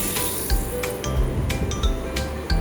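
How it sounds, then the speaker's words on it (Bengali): Fried onion and garlic being poured into cooked masoor dal with papaya, giving a brief sizzle with scattered metallic clinks of a pot and spoon, close by and with no voices. "লাল করে ভাজা হয়ে গেছে, ডালটা আমি বাগার দিয়ে নিব।"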